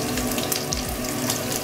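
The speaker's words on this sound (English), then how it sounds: "And you can hear that nice sizzle." Pork sizzles and crackles steadily in a hot frying pan, close by and continuous, with no talking.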